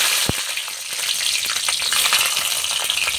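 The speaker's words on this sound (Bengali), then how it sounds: "তেলের উপর দিয়ে দিলাম কাঁচা লঙ্কা" Green chillies dropped into hot mustard oil in a kadai crackle and sizzle loudly up close, opening with a sharp pop and then a dense, steady spitting fry.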